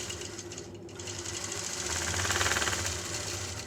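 A sewing machine quilting a fabric block runs continuously, its rapid needle rhythm rising slightly in speed and loudness toward the end, with no one talking.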